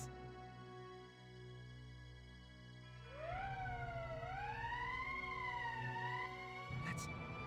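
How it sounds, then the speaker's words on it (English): An emergency siren in the video game Valkyria Chronicles wails, rising and falling in slow sweeps, starting after a low steady hum and cutting off near the end. "That's the emergency siren."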